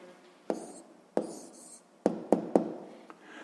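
Pen strokes scratch and tap on paper in quick, separate bursts, several sharp taps punctuating the soft scribbling of a math answer being written down in a quiet room.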